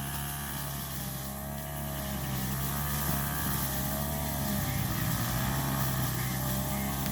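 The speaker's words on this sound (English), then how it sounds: "Smoke coming from my weed whacker." A weed whacker engine runs continuously while smoking, a loud, close, steady buzzing drone with a harsh, raspy tone that barely varies in level.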